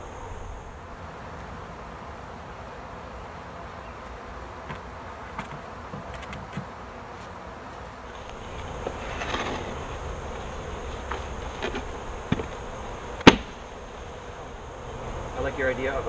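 A soft, steady hum of honey bees buzzing as a hive is installed at a high school in Glendale, Wisconsin, faint and continuous under occasional ticks and a sharp click.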